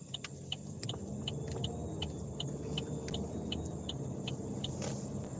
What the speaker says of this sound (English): Let's see if this truck is going to let me go through.